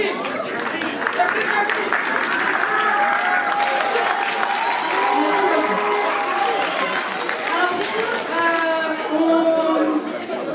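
A theatre audience applauds, with sustained clapping and crowd noise, while a voice speaks over the top through most of it.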